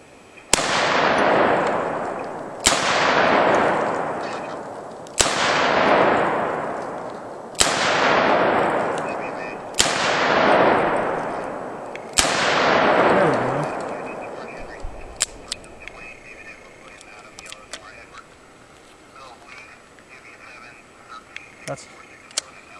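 A double-action handgun fires six loud, evenly spaced shots about two seconds apart, each with a long ringing decay. Faint clicks and handling noises follow the last shot.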